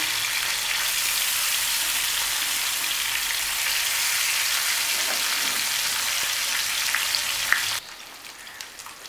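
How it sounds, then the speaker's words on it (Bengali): Koi fish fry in hot oil over a medium gas flame, giving a loud, steady crackling sizzle up close that drops off sharply near the end, with no talking. "তেলটা গরম হয়ে গেছে আমি কই মাছগুলো এর মধ্যে দিয়ে দিলাম"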